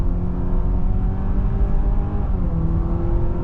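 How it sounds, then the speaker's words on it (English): Honda CR-V Trailsport hybrid engine driving uphill on a roughly 5% grade, a steady close drone with a mildly rising, revving tone and no talk over it. "Honda engines sound good."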